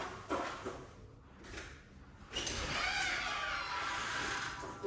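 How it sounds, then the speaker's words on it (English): A door is pulled open with a sliding, rattling rumble, preceded by a few knocks and shuffles, then a sustained rolling scrape as it opens wide. "open up the door for him"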